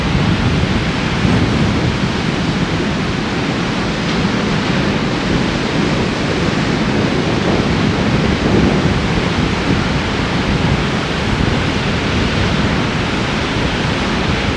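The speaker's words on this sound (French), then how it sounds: "Il y a de la vague." Sea waves on the beach at Capbreton, a loud, continuous broadband roar of surf filling the whole stretch without breaks and with no voices.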